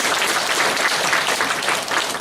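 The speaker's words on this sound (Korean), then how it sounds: "하나님께 영광의 박수 올려드리겠습니다" A church congregation at a New Year's Eve worship service claps together, a dense, loud, close burst of applause sustained without talk.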